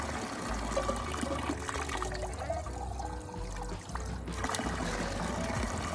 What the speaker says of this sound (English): Where you fill up your water and go on your way.